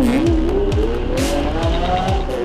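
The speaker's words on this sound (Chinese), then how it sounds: "其实原厂排气管声浪其实已经算大声了，尤其现在是 Sport 模式，排气管声音反就比较大声。" A Lamborghini LP700-4 Roadster on its stock exhaust pulls hard in Sport mode. The engine note rises steadily as a loud, continuous roar with close, rhythmic pulses from the exhaust, and no talking can be heard.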